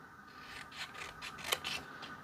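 Scissors snip through paper for a fall scrapbook layout, a few soft, close crisp cuts with rasping slides between them and one sharper snap near the middle.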